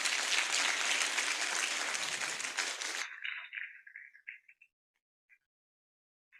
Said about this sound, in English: give a round of applause to the Beyond Mentors Community Initiative